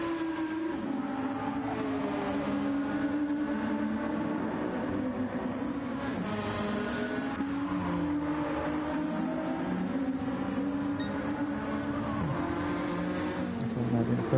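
GT2 race cars lap Spa Francorchamps in a racing game, engines droning and revving continuously at steady loudness through the whole stretch, with a commentator talking over the top.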